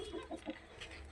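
Breeder hens cluck in an old poultry shed, a quick run of short, soft clucks close by with no talk.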